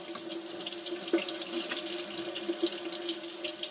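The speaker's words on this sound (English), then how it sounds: "You want to wash your hands and forearms up to the elbow with soap and water." Tap water runs steadily into a sink during hand washing with microbial soap, a continuous close broadband wash with faint clinks and a steady hum underneath.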